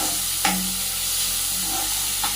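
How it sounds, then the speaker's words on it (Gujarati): Chopped onions softening in a pan over a low gas flame for paneer bhurji, giving a steady soft sizzle with a few light stirring scrapes, close and alone. "ગેસની ફ્લેમ સ્લો કરીશું અને ધીમા તાપે ડુંગળીને ચડવા દઈશું"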